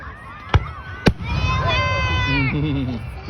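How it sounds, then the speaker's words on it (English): Fireworks burst at a family outing, with two sharp bangs followed by crackling, fizzing and whistling as a crowd murmurs and people talk nearby. "The fireworks."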